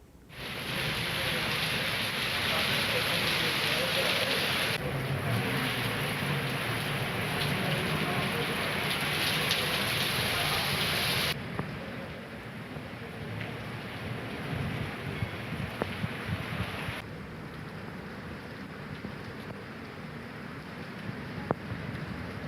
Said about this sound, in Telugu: హైదరాబాద్ లో పలు ప్రాంతాలలో వర్షం కురుస్తున్నట్లుగా తెలుస్తుంది.